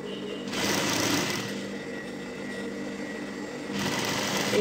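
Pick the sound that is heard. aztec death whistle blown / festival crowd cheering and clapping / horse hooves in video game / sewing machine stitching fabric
sewing machine stitching fabric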